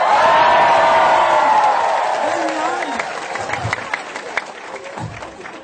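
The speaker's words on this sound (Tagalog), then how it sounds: "Palakpak!" Loud audience cheering and whooping at a Filipino motivational talk, then scattered clapping as the roar fades, with a voice briefly speaking near the end.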